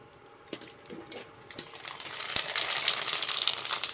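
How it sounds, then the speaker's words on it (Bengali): A papad dropped into hot oil in a home kitchen, with a few light clinks early on, then a building, steady sizzle and bubbling that grows louder and denser toward the end. "পাঁপড়টা নিয়ে আমি এই দেখো ছেড়ে দিলাম তেলের মধ্যে"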